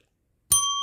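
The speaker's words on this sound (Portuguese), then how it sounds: "Ativa o sininho das notificações" A notification bell ding sound effect, one bright metallic strike after silence, ringing on with a clear sustained shimmering tone.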